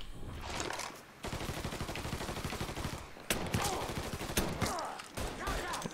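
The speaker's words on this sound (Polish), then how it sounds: "Dwa strzały z pistoletu wystarczają." Gunfire in Mafia III during a fight in a Haitian village: dense, rapid bursts of shots broken by brief pauses, loud and close, with a little talk at the edges.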